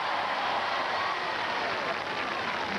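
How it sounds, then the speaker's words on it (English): Crowd applause at the 1987 Royal Grand Knockout Tournament as Judy Simpson finishes a hopping course, a dense, steady wash of clapping and cheering that holds throughout. "Give her a round of applause"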